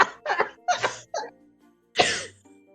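Someone still recovering from a cold coughs in a few harsh, close bursts, then pauses before one last cough and a softer trailing sound.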